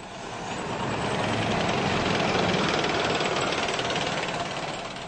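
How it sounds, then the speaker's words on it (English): Heavy tank engines roar loudly and steadily through city streets in Baghdad, a thick rumbling drone that swells slightly in the middle and eases toward the end. "The roaring sound of tank engines resounding around the city's streets."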